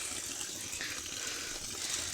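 Cold mountain spring water gushes steadily and close by as a bottle is filled, a continuous bright rushing hiss with no pauses throughout.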